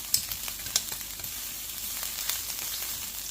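Meat searing in a hot pan under an Artisan sear press gives a steady, bright sizzle with a few soft taps and clicks, close and fairly loud, with no talking.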